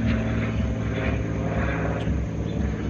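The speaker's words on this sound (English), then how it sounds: "Plane." An airplane passes overhead, its steady propeller-engine drone loud and continuous throughout with no voices.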